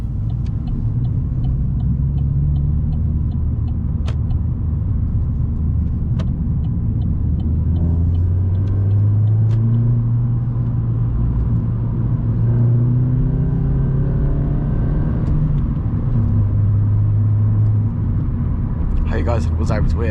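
Loud Vauxhall Corsa engine and exhaust while driving, a continuous deep rumble rising and falling with throttle, heard from inside the car, with a person talking over it and clicking indicator ticks.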